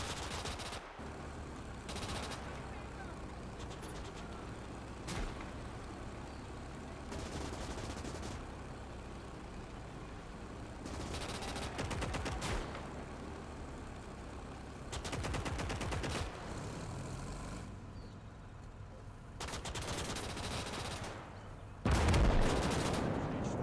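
Explosions and gunfire in a GTA roleplay game, repeated bursts of rapid shots and booming blasts over a steady rumbling background, with a heavy loud blast near the end.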